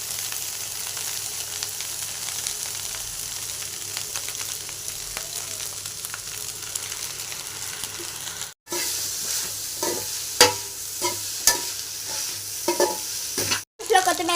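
Gobi fried rice is stirred in a hot restaurant-style pan, with a steady sizzle and scraping spatula strokes, two brief breaks in the sound, then louder clanking scrapes.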